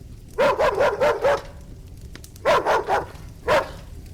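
A hunting dog barks in quick bursts, a rapid run of five barks, then three more, then a single one, loud and close with no talk over them.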